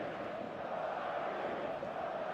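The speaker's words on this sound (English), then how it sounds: "There's a real expectant buzz in the stadium" A stadium crowd in eFootball gives off a steady, expectant buzz, an even wash of many distant voices with no peaks or cheers breaking through.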